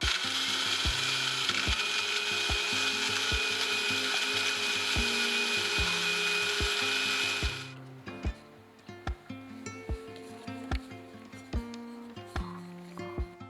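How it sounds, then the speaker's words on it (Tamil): A mixer grinder whirs loudly and continuously as it grinds ragi coffee ingredients finely, then shuts off abruptly partway through. After that come clattering knocks and taps of the jar and lid being handled. "நம்ம இப்போ நல்லா நைஸாக நம்ம அரைச்சி எடுத்துக்க போகிறோம்."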